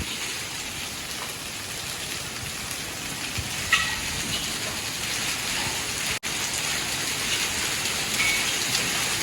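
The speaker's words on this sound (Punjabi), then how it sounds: "ਇੰਨਾ ਤੇਜ਼ ਮੀਂਹ ਤਾਂ ਕਦੇ ਪਿਆ ਨਹੀਂਗਾ ਜਿੰਨਾ ਅੱਜ ਆ ਗਿਆ" Heavy rain pours steadily in a dense, continuous hiss with no voices.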